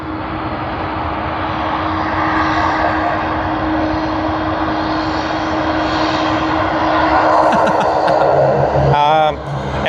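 An Airbus A220 at Sydney Airport, just pushed back, gives a loud, steady engine roar and whine that fills all ten seconds, with voices talking over it.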